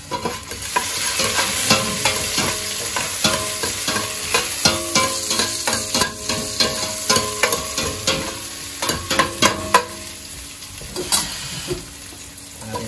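Food frying in a pan and stirred steadily, a loud continuous sizzle broken by repeated scraping strokes of the spoon at an irregular rhythm, close up with no talking.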